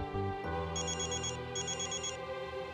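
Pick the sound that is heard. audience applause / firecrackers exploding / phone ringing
phone ringing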